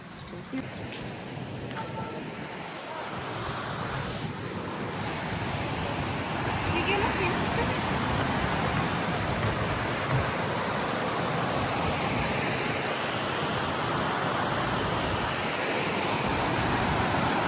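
Lingmala waterfall near Mahabaleshwar roars as a broad, steady rush of falling water, loud and continuous throughout, with no pauses or distinct events.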